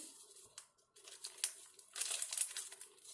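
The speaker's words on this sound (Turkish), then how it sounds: "Şekerli vanilyasını koyuyorum. Şöyle açıyorum. Ve döküyorum." A paper packet of vanilla sugar is torn open and poured into chocolate cake batter: sharp close crinkles and a tearing rip, then a soft rustling pour, with no talking.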